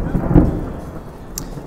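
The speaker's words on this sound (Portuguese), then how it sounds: "Vamos esperar passar o trovão." A low rumble of thunder rolls through a rainstorm, loud and close at first, then fading over about a second, with a faint patter of rain and a brief sharp tick near the end.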